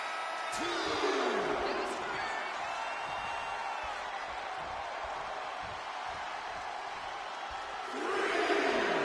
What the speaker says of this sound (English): JBL getting the crowd riled up right now.